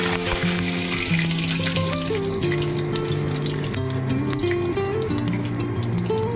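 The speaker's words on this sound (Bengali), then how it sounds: "প্রথমে তেল গরম করে আমি ফোড়নগুলো দিয়ে দেবো।" Cumin and bay leaf tempering crackles in hot oil for a Bengali black chickpea curry, a continuous close sizzle with sharp pops, while a background melody or tonal hum runs underneath.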